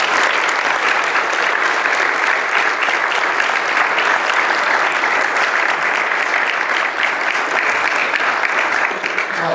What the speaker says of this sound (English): please could I have a massive round of applause for Sir Vince Cable.